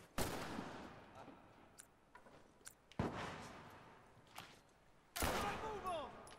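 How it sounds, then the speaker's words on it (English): Three sharp, fairly loud gunshots fired by an enemy in The Last of Us, spaced a few seconds apart, each with a decaying echo, plus faint clicks and movement between them. "He's just shooting at me."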